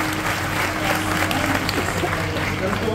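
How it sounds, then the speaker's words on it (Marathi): Audience at a kirtan in Alandi clapping steadily and loudly throughout, a dense continuous applause filling the whole span. "जोरदार टाळ्या वाजवा"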